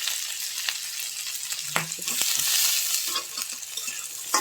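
Potatoes, carrots and other vegetables frying in a pan, a constant oily sizzle close by with a few scraping stirs and light knocks of the spoon, no voices.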